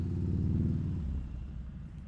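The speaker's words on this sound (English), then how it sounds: "I can't have a giant truck creeping up right next to me." A large truck rumbles close alongside a motorcycle on a Las Vegas street, a loud low engine drone that eases off and fades somewhat after about a second.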